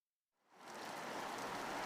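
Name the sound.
heavy rain shower pouring down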